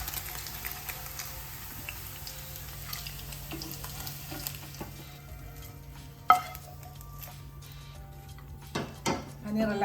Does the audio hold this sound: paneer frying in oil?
yes